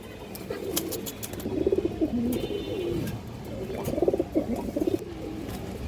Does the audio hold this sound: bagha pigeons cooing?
yes